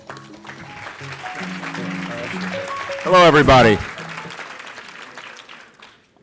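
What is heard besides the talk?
audience applause for the master of ceremony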